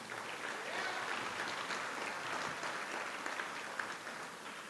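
Steady audience applause at the City of Cleveland Mayor's Office of Sustainability award during an annual fashion show, a dense even wash of clapping held at moderate level for the whole stretch with no voices breaking through.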